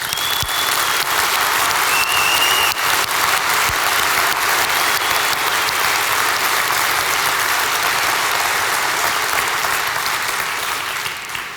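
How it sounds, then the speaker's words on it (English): Large audience at a Shopware tech conference keynote applauding its developers, a loud, dense and sustained wash of clapping that stays steady for the whole stretch, with occasional whoops or short calls rising above it. "I think this is worth a big round of applause for our developers"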